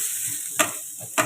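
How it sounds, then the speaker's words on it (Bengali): Fried food reheating in a pan gives a continuous hissing sizzle, broken by two short louder bursts of scraping or stirring. "ভাজাটা একটু গরম করে নিই"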